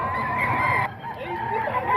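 A seven-month-old gamefowl rooster of an SBR bloodline calls loudly and close, a sustained crowing note that breaks off partway, followed by softer clucking with people talking nearby.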